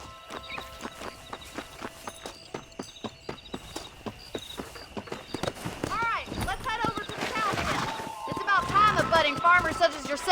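A horse's hooves clip-clop at a steady walking pace while ridden through a Red Dead Redemption game scene, gradually quickening and growing louder, mixed with a low background score and tonal game sounds toward the end.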